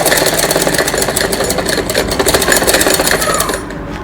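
A sewing machine runs continuously, stitching the shoulder seam of a child's night suit, its rapid needle clatter close and loud before slowing at the very end.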